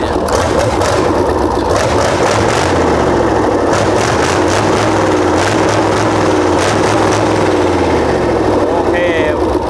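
A Hino F20C 380 hp V8 marine diesel engine runs loudly and steadily throughout, a continuous deep rumble with people talking over it.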